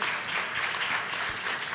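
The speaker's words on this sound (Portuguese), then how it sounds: "Isso, palmas para ela." Audience applause fills a large hall at a Baptist missiology congress, a dense, steady clapping that sustains at an even level throughout.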